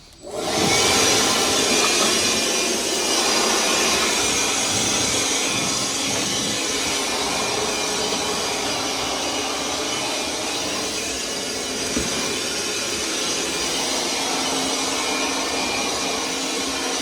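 A Milwaukee M18 cordless workshop blower runs steadily on its medium setting, giving a loud, close, continuous whooshing airflow with a high whine that starts abruptly and holds level throughout, with no talking.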